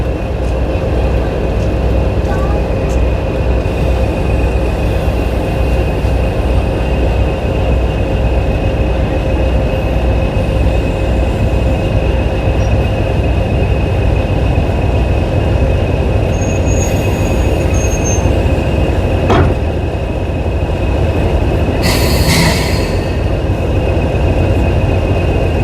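A heritage train on the Epping & Ongar Railway rumbles steadily while being coupled, a loud continuous engine drone with a brief metallic clank and a short squeal partway through.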